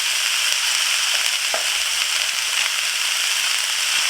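Cauliflower and broccoli hit a hot stir-fry pan with garlic, giving a steady, even sizzle that holds close and loud with no break and no voices.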